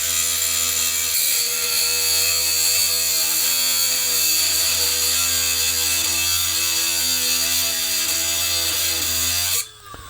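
A Milwaukee M12 brushless rotary tool runs under load with a steady high-pitched whine held constant for about nine seconds, then winds down abruptly at the end.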